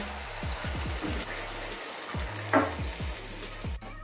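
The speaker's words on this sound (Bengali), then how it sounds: "এই যে বেশি তেলে ভেজেছি, দেখেছেন কত বড় ফুলে গেছে" Pieces of egg omelette frying in plenty of hot oil, a close, continuous crackling sizzle with scattered bubbling pops and one brief louder spatter, no talk.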